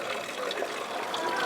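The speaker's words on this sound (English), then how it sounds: "the water that you see coming out is actually drinking water" Drinking water pours steadily from Onofrio's Fountain in a sunny old town square, a soft continuous splashing and trickling wash with no voices over it.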